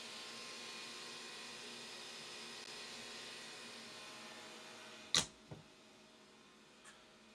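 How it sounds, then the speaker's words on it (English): A Snapmaker U1 3D printer warms up with its enclosure open, giving a faint, steady fan-like hum that holds throughout, broken near the end by one sharp clack and a couple of softer knocks. "I can hear the 3D printer on the inside humming along, and as it warms up for the file that I'm going to print"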